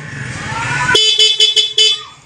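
The stock horn of a Yamaha NMAX v2 scooter sounds in four short, loud beeps in quick succession, coming after a moment of engine and background noise.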